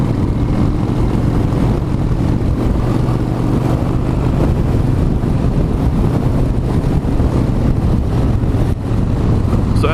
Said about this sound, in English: Ooh, look at that wind.